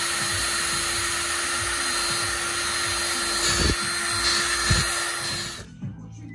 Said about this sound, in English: As you see, I drilled it right through.